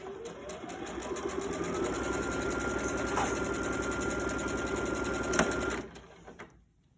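A sewing machine runs fast and steady while stitching a quilt panel, a close continuous mechanical whir with rapid needle chatter that slows and stops near the end.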